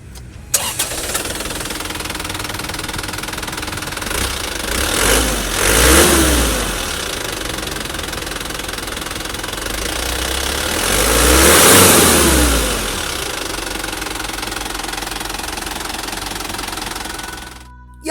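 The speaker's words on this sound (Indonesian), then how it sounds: "kita pengen coba denger dulu suara mesinnya kayak apa sih, kan diesel Isuzu cukup legendaris" An Isuzu Elf NLR55LX diesel truck engine cranks and starts, then settles into a rough idle broken by two strong revs that swell and fall back before it cuts off.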